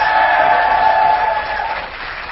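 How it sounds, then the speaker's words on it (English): A crowd applauds and cheers at a Texas gaming tournament, giving a round of applause for a caster, a steady wash of clapping that slowly fades over about two seconds. "Let's give him a round of applause."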